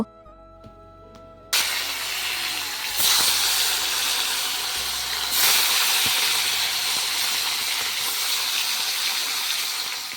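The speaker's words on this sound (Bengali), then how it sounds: "এখন মাছটা ভেজে নেব" Fish dropped into hot oil on a clay stove, a sudden loud hiss and crackle bursting in after a quiet start and then sizzling steadily and close for the rest.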